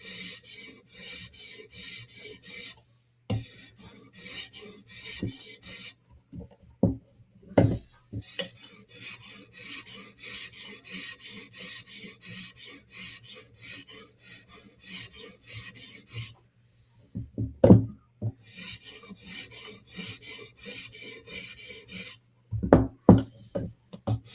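Knife edge scraped over a whetstone in a sharpening session, working down the burr: bursts of steady raspy strokes separated by short pauses and a few sharp knocks, close and moderately loud.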